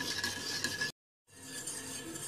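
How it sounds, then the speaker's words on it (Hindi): A spoon stirred fast through raspberry jelly dissolving in just-boiled water in a pot on a switched-off stove, soft scraping and clinking, broken by a brief gap of silence before the stirring resumes. "उसे तेज तेज चमचा चलाकर मिक्स कर लूंगी"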